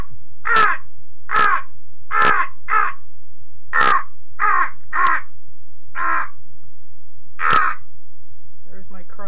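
A person imitates a crow, making a run of about ten loud, harsh caws in an uneven rhythm, close to the listener with no other sound behind them.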